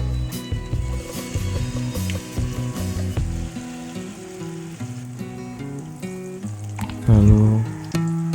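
Battered tempeh mendoan fries in hot oil, giving a steady sizzle with a louder burst of bubbling near the end, set against a sustained tonal background.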